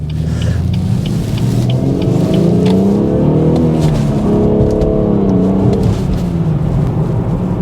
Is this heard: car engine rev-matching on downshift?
yes